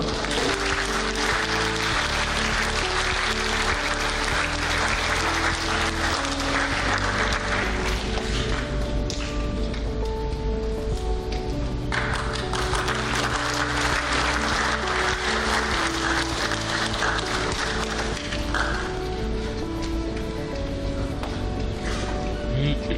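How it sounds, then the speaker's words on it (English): Audience applause at a conference concluding session, honoring the first-place award winner, runs steadily for the whole stretch, dense and close, with sustained tonal sounds underneath. "And now, for the first place, we applaud Mr. Saud Afridi"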